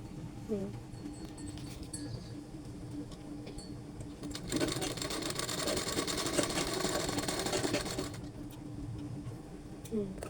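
A sewing machine stitching a piping strip onto a blouse neck runs in a steady mechanical whir that swells into a louder sustained burst midway, with someone talking around it.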